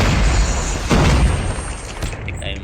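A vehicle blows up in a shooter video game, a deep muffled boom and burst rising out of dense, constant gameplay noise, followed by a rumbling fade.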